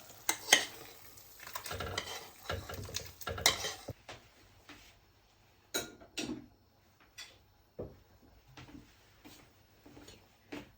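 Chopped meat, carrots, fried onion and bell pepper being tipped into a kazan pot, a cluster of clattering, scraping spoon strokes at first, then sparse separate knocks and clinks, close but fairly quiet, no talk.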